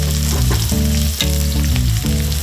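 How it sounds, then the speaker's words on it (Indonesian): Garlic, onion, spring onion and celery sautéing in a pan, a loud close sizzle with rhythmic stirring scrapes and nobody talking. "Tumis bawang putih, bawang bombay, daun bawang dan seledri hingga harum."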